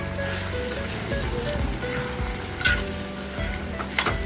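Chicken chukka fries in a pan with a steady, close sizzle and soft stirring scrapes, a few louder pops and clicks of the spatula cutting through.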